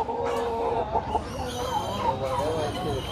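A rooster and hens cluck and call close by at the large outdoor flea market in Canton, Texas, with busy overlapping bird sounds under crowd chatter and people talking nearby.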